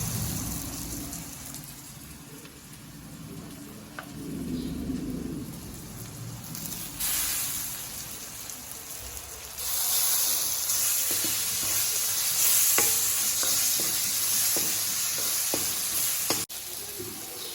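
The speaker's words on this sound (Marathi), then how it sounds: "तर यामध्ये आता आपण ते टमाटे कट केलेले टाकून घेऊया।" Chopped tomatoes go into a hot pan of spiced oil, giving a loud, steady sizzle with scraping stirs and occasional clinks of a utensil, close by with no talk.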